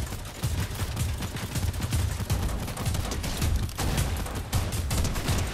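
Rapid bursts of gunfire from the Fortnite video game crackle continuously and loudly, with dense repeated shots in quick succession and no talking over them.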